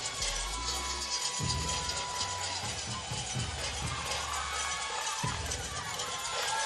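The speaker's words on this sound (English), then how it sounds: "Crowd responding to Chrissy Lehman of Oregon State" Crowd at the 2006 Pac-10 women's gymnastics championships cheering for Chrissy Lehman of Oregon State after her beam routine, a dense roar of applause and voices mixed with talk and low thumping.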